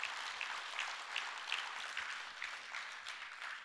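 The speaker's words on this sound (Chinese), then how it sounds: "好的话，给公司一个掌声。" Audience applause for a company at a presentation, a sustained crowd of clapping hands with faintly rhythmic pulses, moderately distant and even in level.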